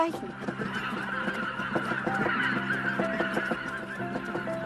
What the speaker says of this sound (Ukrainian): Глянь, дикі гуси вже повертаються.